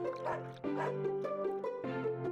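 Dog giving a run of four or five short yipping barks, close and fairly bright, in a quick uneven rhythm.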